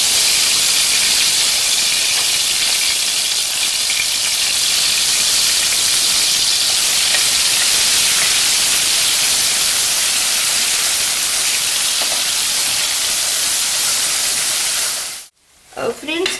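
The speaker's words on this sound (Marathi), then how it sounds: "यामध्ये मी भाजलेला आणि वाटून घेतलेला कांदा आता परतून घेणार आहे थोडा" Roasted, ground onion frying in a few tablespoons of hot oil in a kadhai, a loud, dense and steady sizzle throughout that cuts off abruptly near the end.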